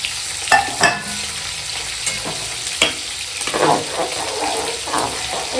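Yardlong beans, carrots and flat beans frying for khichuri crackle in the pan under a steady sizzle, punctuated by several sharp stirring scrapes and clatters spread across the clip.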